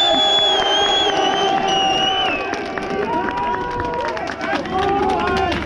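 A large street protest crowd outside the Dáil in Dublin shouts and cheers continuously, loud and close, with overlapping voices, whistles and chanting filling the whole stretch.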